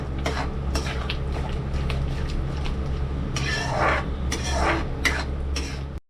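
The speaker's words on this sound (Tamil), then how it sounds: "இதையும் நல்லா போட்டு இதில் கலக்கி ஒரு 2 நிமிஷம் இதையும் கொதிக்க வச்சு எடுத்துக்கலாம்." A spoon scrapes and clinks against a metal pan in steady strokes as spicy momo chutney boils, with a low continuous bubbling hum underneath, close and fairly loud.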